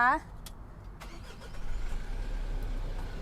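A Mitsubishi Triton 4x4 pickup's engine cranks and catches, settling into a low, steady idle after a woman's brief speech at the start.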